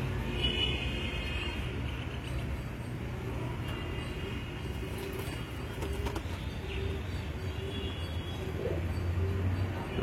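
Pigeons cooing among a group of birds, soft low coos over a constant hum of background noise that runs through the whole stretch.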